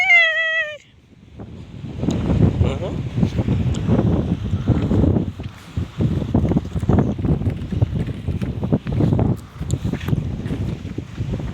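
Strong wind buffets a microphone outdoors near a tractor, a loud, rumbling, gusty roar that surges and dips continuously after a brief tonal chime at the start.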